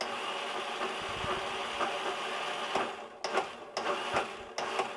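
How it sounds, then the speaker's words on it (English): The faulty starter motor of a 2006 Yamaha FXHO WaveRunner cranks with a buzzing, grinding whir, then breaks into several short bursts separated by brief gaps, close and fairly loud. "You can hear the starter working."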